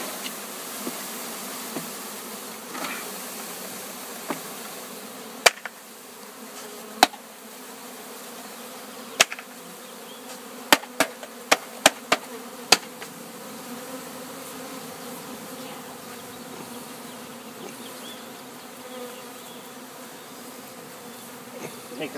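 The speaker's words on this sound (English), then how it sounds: "These bees have been together for a while, so they already have her smell." Honeybees buzz steadily during a spring hive installation, a low continuous drone with sharp clicks and knocks scattered through the middle, moderately quiet and with no talking.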